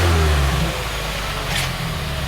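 A 2015-2018 Subaru WRX engine revs through its exhaust close by, a loud steady low rumble that swells briefly and then holds, with no talk.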